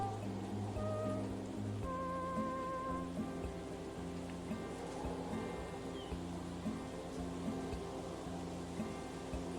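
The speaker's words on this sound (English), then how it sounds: "Not even in the pouring rain." Pouring rain in the golf video game Hot Shots Golf 5, a steady, even hiss that runs the whole time beneath sustained game music tones.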